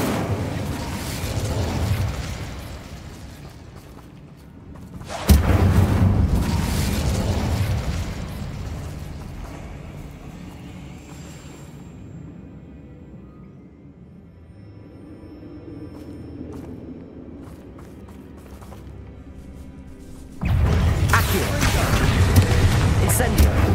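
Incendio fire spell being cast in Hogwarts Legacy, heard as loud, booming bursts of flame near the start and again near the end, with a quieter rumbling stretch between.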